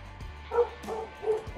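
A dog barking near a backyard pergola under demolition, a few short yipping barks and whimpers in quick succession at moderate distance, with no talk over them.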